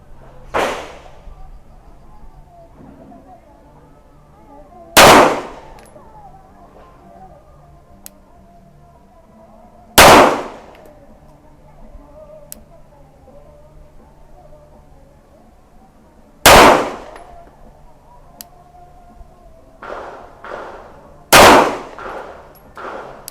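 A CZ 75B Omega all-steel pistol fires 135-grain lead round-nose rounds at a range target, five loud, sharp shots spaced several seconds apart with quieter clicks and handling noises between them.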